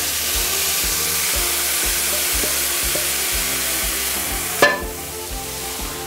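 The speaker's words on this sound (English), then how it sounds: "you throw a little bit in there, and it's sizzling" Vegetables for a crawfish and corn bisque sizzle loudly in hot oil with a steady crackling hiss, then a sharp clatter near the end as the hissing drops off.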